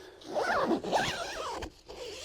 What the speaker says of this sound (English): They are YKK zippers.